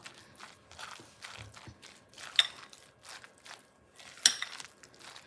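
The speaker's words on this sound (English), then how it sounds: "Now let me get the spoon that I had. Just mix it up a little more." A spoon stirring mock tuna salad in a bowl, soft scraping and clinking strokes with two sharper taps, close and fairly quiet.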